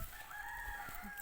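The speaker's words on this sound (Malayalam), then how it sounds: "അത് കോഴിയാണോ എന്താ എനിക്ക് മനസ്സിലായില്ല" A chicken, probably a rooster, crows once in a short, clear call near a muddy, dried-up pond, with no one talking over it.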